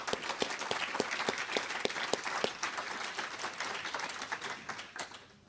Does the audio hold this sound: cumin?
no